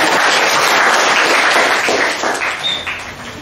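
A crowd claps steadily, a dense wash of applause that holds strong and then begins to thin toward the end.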